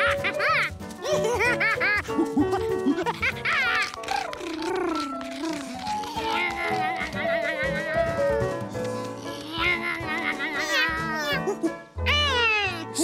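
A cartoon cat meows repeatedly in high, drawn-out, sliding calls, loud and close, with giggly child-like laughter and playful voices woven among the meows.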